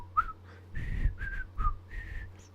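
Person whistling a short, meandering tune that imitates a folksy film soundtrack, several clear held notes and slides, close and alone with no talk.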